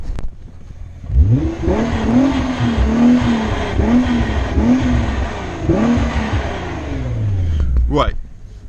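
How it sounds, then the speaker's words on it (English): A 2009 Nissan GT-R R35 engine is revved hard nearby in a series of rising and falling blips, a deep exhaust growl rolling through several bursts before dropping away and ending in a short mechanical clunk. "let's give it a little rev"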